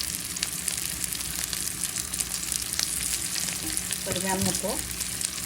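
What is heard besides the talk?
garlic, onion and green chili frying in pan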